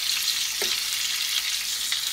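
Breaded portobello mushroom schnitzel frying in a pan, giving a steady, bright sizzle of hot oil throughout, close and even, with a brief soft scrape or stir partway through.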